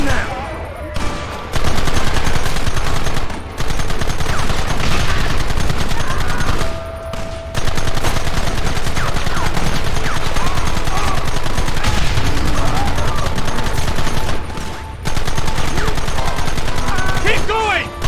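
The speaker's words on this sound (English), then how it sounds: "Gun them now!" Gunfire in a Red Dead Redemption shootout, with bursts of repeated shots and rapid volleys crackling over continuous battle noise, broken by a few brief lulls, while a person talks over it.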